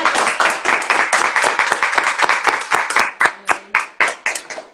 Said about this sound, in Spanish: Un aplauso para Pacha.